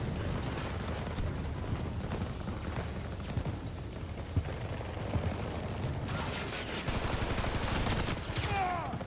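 Sustained battle gunfire from Battlefield 2042, a continuous fusillade of rifle and machine-gun bursts with heavier rattling volleys near the end, loud and unbroken, with little or no talk.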